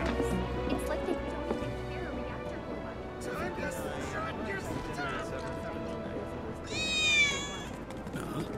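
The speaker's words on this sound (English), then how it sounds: "I swear I just heard a cat." A cat meows in the video game Final Fantasy VII Remake, a short rising cry near the end over a steady game soundtrack and ambient effects.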